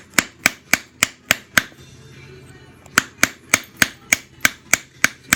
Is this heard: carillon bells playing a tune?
no